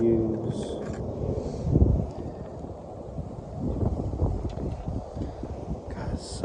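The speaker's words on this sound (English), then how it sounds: "it's so windy out here" Wind gusts buffet the microphone outdoors in a backyard during fishing, a low, uneven rumble that swells around the two-second mark and then stays steady and fairly quiet.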